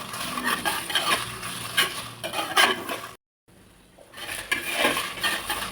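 Curry leaves being dry-roasted in a pan for a curry leaf powder: steady scraping and stirring, with the spatula clinking on the metal and a brief gap of silence partway through.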